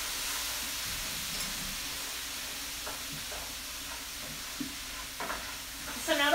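Pumpkin seeds sizzling in a hot pan, with a steady, broad frying hiss and a few faint scraping stirs near the end.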